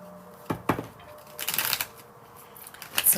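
Tarot-style cards shuffled for a reading, giving a few quick riffle bursts and soft flutters, fairly close and moderately quiet, with no talking.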